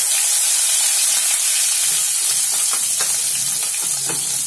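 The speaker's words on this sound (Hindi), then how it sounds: "इसमें हम डाल लेंगे कद्दूकस की हुई अदरक और ये हरी मिर्च, इसको हम थोड़ा सा भून लेंगे" Grated ginger, green chili and curry leaves frying in oil, a loud, close, continuous sizzling hiss with a few soft stirring taps near the end.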